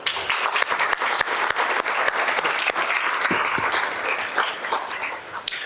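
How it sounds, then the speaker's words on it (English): A banquet audience at the MSU College of Nursing scholarship and alumni awards claps loudly for alumni award recipients, with dense, continuous applause and sharp individual claps that ease slightly toward the end. "Let's give another round of applause also to our Alumni Award recipients."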